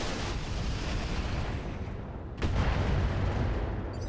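Weapons fire in the Roguepoint video game: a dense, continuous rumbling roar, with a sharp blast about halfway through, after which the barrage grows louder and heavier.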